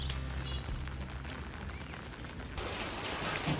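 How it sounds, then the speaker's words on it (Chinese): Steady rain patters and hisses on a surface during the Yunnan rainy season, growing noticeably heavier and louder near the end, with no voices. "每天下雨，从大雨变成小雨，再变成大雨，从来没停过。"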